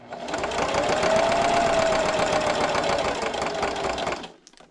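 A sewing machine runs steadily while stitching a St. Patrick's Day coin purse, a continuous close mechanical whir with a faint high whine that holds for about four seconds before stopping abruptly.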